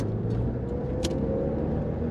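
A 1989 Ford Escort LX engine hums steadily from inside the cabin, a constant low rumble with brief faint clicks and a short squeak.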